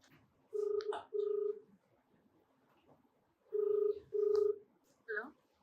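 Telephone dialing tones in two short bursts of paired beeps, followed by a brief ringback-like tone at the end, heard clearly in a quiet setting with no talking.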